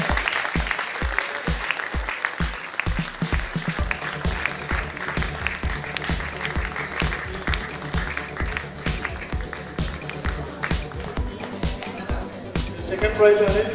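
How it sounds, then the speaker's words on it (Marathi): A crowd applauds at the prize ceremony of an all-India carrom tournament, with continuous clapping running beneath a loudspeaker announcer who talks throughout and loud music over the top. "टाळ्या बजाओ, तालियां बजाओ"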